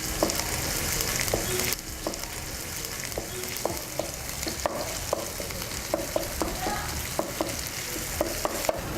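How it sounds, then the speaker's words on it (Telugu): Garlic paste and turmeric fry in oil in a pan while a spoon stirs them, giving a steady sizzle broken by regular sharp scraping taps, close and alone. "ఇందాక వేసుకున్న అల్లం పేస్ట్ కంటే కొంచెం తక్కువ మోతాదులో వెల్లుల్లి పేస్ట్, కొంచెం పసుపు వేసుకొని బాగా కలవనిద్దాం."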